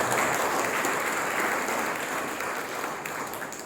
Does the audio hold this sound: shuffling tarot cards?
no